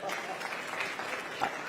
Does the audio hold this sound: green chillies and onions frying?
no